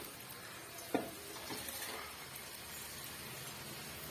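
Mushroom and cabbage pieces frying in oil for a roadside-style mushroom dish, giving a steady, soft sizzle throughout with one brief clink near the start.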